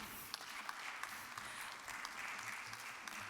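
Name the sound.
audience applause for a speaker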